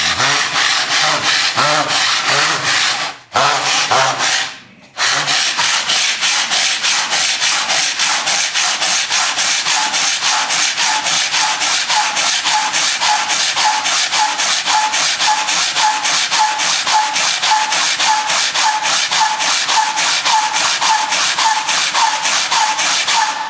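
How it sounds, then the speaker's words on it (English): A sandpaper block rubs rapidly back and forth across a wooden guitar body, making a loud, close, continuous rhythmic scratching that runs throughout, broken only by two brief pauses early on. "it's actually everything else that has to be sanded to get down"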